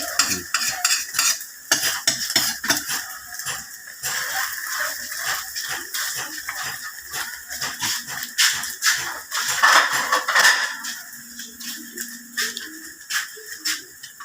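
Eggs for a Thai omelette (khai jiao) are beaten and fried, with repeated clinks of utensil against bowl or pan and a sizzle in the oil that swells and fades, close and busy, with no talking.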